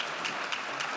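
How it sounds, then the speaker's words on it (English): Faint, short burst of audience applause at a space resources conference, a soft continuous patter of many hands heard from a distance. "Big applause for them."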